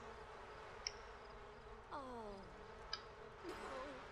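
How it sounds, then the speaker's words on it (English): Bees buzz softly in The Sims 4, a faint, steady insect drone with a few brief game chimes and a short sighing voice sound over it. "In all my times of playing with bees, they've only ever been hateful towards me"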